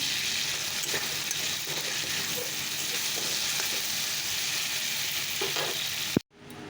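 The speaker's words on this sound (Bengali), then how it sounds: "মাছের ঝোলটা বসিয়ে দিয়েছি" Fish curry cooking in a pan, a steady close sizzle with faint occasional stirring clicks, cutting off abruptly near the end.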